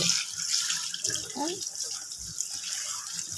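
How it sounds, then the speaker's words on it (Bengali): Running water from a tap splashes steadily over a lucky bamboo plant as it is rinsed, and a voice is faintly heard in the background. "একটুখানি ভালো করে ধুয়ে দিলে পুরো একদম ফাঁক ফাঁকগুলো একটু ভালো করে ধুয়ে দেবে"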